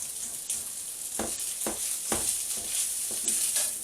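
Peas fry in a hot wok with a soft, constant sizzle, broken every half second or so by the scrape and clatter of stirring.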